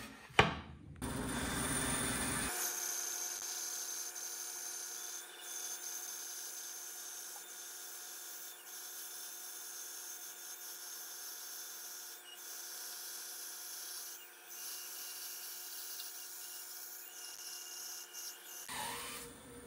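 A bandsaw resaws a thin, even slice off a flat-faced wood board held against a fence, giving a steady close hum with a faint blade whine and cutting rasp that runs alone for about sixteen seconds before stopping.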